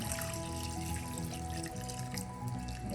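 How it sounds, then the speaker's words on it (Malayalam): Water is poured into a pan of prawns cooking down for a dry-style curry, giving a steady close splashing trickle with faint tonal sounds behind it. "ചെമ്മീൻ വേവാൻ ആവശ്യമുള്ള വെള്ളം കൂടി ഒഴിച്ചു കൊടുക്കാം."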